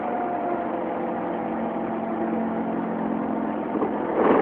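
A Fiat 500 engine runs steadily after a touch of throttle, a close, continuous mid-pitched hum with faint rumble, swelling slightly at the end.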